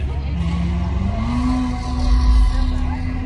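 A Chevrolet Camaro at a car meet revs its exhaust, a loud, rising engine drone swelling over a few seconds with a low rumble peaking near the end, and some voices nearby.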